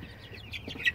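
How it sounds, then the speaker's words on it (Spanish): Brief, close clucks and soft peeping from five-week-old chicks on a small farm of 46 hens, a few quick calls in under a second. "ahí están los pollitos ya después de 5 semanas"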